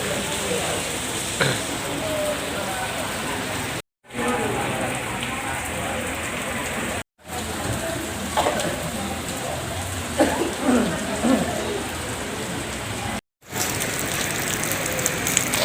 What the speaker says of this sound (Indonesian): Hujan suasana.